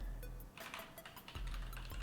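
Quick keystrokes on a computer keyboard, a short run of soft clicks heard close and fairly quiet over a low background hum.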